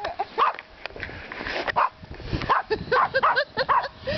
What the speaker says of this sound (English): Look, doggy's barking.